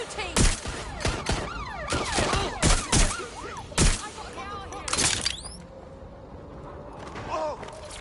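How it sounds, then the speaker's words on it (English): Gunfire rings out during a video game police chase: sharp repeated shots in clusters, loud and close, with radio chatter from the game, then the action eases off toward the end. "Suspect is shooting!"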